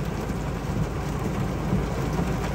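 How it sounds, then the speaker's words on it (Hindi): Heavy city downpour drums on a moving car during a storm, a dense, constant wash of rain noise with low rumble and no gaps, steady throughout with no voices. "इतनी तो बारिश हो रही है भाई."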